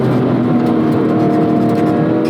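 Engine of a 2004 Porsche 911 GT3 (996.2) under way, a loud, constant close-up drone with steady harmonic whine and no talk over it.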